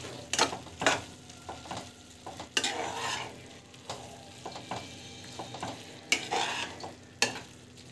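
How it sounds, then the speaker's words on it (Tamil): Food being stirred in a hot cooking pan, with repeated scraping strokes at an irregular rhythm over a soft background sizzle, close and fairly quiet. "ஜஸ்ட் இது மிக்ஸ் பண்ணி விட்டுக்கோங்க"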